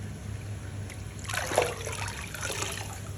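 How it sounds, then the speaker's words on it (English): Pond water trickles and splashes as a container is dipped and filled, a short gurgling burst that swells midway and then settles into a light continuous dribble. "Now we will collect water to test the parameters."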